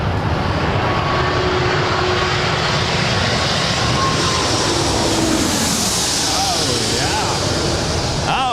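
A Lufthansa Airbus A340 airliner passes nearby at LAX, its engine roar a broad, steady wash that swells and shifts pitch late as it goes by, with faint voices in the background.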